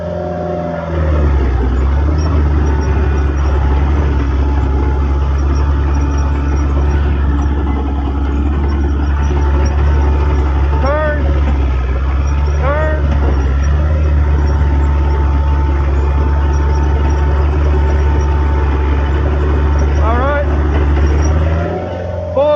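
A late-1980s Cat 943 track loader runs at full throttle climbing a hill, its heavy diesel drone loud and steady throughout, with track squeaks and clanks breaking through at intervals.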